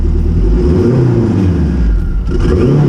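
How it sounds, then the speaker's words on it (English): Honda CRX engine revved hard under load, briefly stumbling and misfiring on three cylinders, with a loud, close, continuous rumbling roar and an uneven dip near the end. "Now if I really stab it, you can hear the car go 3 cylinders there for a moment."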